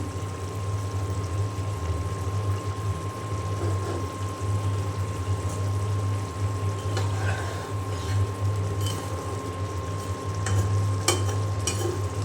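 Shrimp and papaya curry simmering in a pan on the stove: a steady, close bubbling sizzle under a constant low hum, with occasional soft clinks and stirring scrapes.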